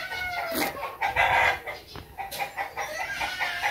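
A rooster crows nearby, loud and drawn out, with a few hen-like clucks around it.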